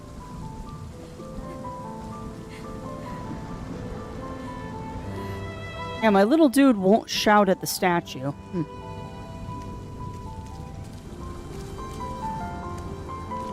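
Steady rain pours throughout a scene in the video game Rime, with someone talking over it partway through.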